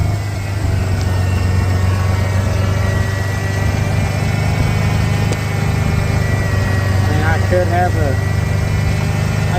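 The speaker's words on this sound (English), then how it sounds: "Seems to be idling just a little high" A Ford Bronco engine idles steadily and a little high after its timing has been set, a continuous low drone close to the listener throughout, with a brief spoken aside near the end.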